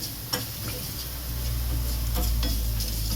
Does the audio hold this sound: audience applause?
no